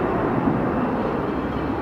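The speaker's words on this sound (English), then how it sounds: "359er coming in next from Taipei. It's just on final now." China Airlines Airbus A350 from Taipei on final approach at Melbourne Airport, a steady, loud broadband engine roar with no break or variation across the short span.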